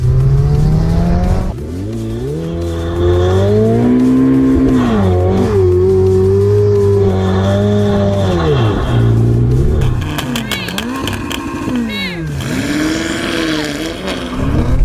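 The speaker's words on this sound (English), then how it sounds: "Do you want to warm your tyres up a bit?" A BMW M5 tuned to around 800 hp revs and spins its tyres to warm them before a drag race, a loud sustained engine drone with rising and falling pitch and tyre squeal, with brief voices in the background.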